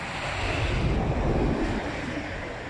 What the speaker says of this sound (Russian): вот Усть-Илимская ГЭС. Сброс воды